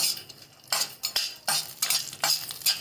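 Dry fruits roasting in a spoonful of ghee in a kadhai on a gas stove for rava kheer, with repeated scraping stirs and soft sizzle in short bursts, close and fairly loud, no talking.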